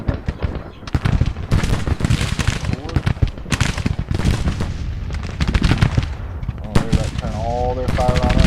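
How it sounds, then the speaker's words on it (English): Dense volleys of musket and artillery fire in the Civil War strategy game Grand Tacticians, loud crackling battle noise continuing throughout with someone talking over it. "they're firing on us now"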